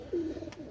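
A single soft, throaty coo from an Oman teddy pigeon of a running pair, close by and brief against a quiet background.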